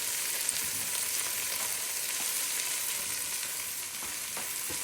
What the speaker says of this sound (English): we're going to put our carrots and our onion in